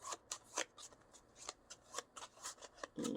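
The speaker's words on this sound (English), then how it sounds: "I'm going to reshuffle." A deck of playing cards is reshuffled in a quick series of crisp riffling bursts, faint and close, ending with a soft thump.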